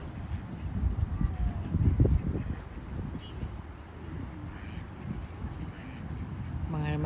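Ducks quack and call across open water, a scattered chorus of near and farther birds over steady wind noise on the microphone, with faint voices in the background.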